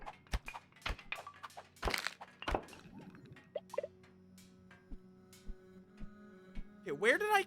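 A jade bomb detonates in a video game, setting off a scatter of sharp cracks, clinks and breaking thuds, then a rising synthetic whoosh at the end, with a voice talking intermittently.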